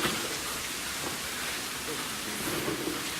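Steady rain falls outdoors near an abandoned coal washing plant, a constant broadband hiss of drops without any talk.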